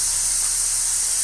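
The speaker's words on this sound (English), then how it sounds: "So let's go ahead and start spraying it." A cheap $15 paint spray gun, already leaking after one cleaning, gives a steady loud hiss of spraying throughout a short moment with no voices.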